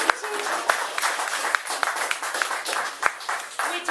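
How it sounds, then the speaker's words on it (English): An audience applauds a poetry performer at an open-mic event, a lively room of clapping with distinct sharp claps over the wash, and brief voices mixed in. "Another big round of applause for Tim."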